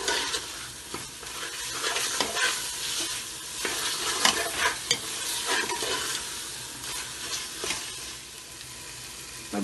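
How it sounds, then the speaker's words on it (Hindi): Arvi gosht masala with tomato being stirred and fried in a pan, a steady close sizzle with repeated scraping stir strokes throughout, no voices. "बस थोड़ा सा इसको मसाले के साथ भूनेंगे।"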